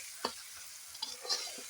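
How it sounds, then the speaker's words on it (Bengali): Egg curry masala with garam masala powder and sugar being stirred in a pan, a few brief scraping strokes over a quiet, steady sizzle. "গরম মশলার গুঁড়ো, চিনি, এবার দিয়ে নেড়ে চেড়ে"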